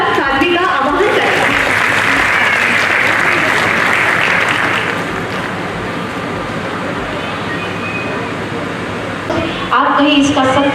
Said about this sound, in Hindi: एक बार तालियों के साथ साध्वी का आवाहन करें।